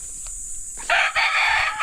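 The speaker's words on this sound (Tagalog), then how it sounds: "kasama mo dyan mga manok" A rooster crows loudly nearby, a single drawn-out call after a short quiet start.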